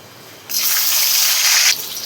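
Kitchen tap water gushes steadily over cluster beans (guar) being washed, a loud close rush starting abruptly and stopping after about a second.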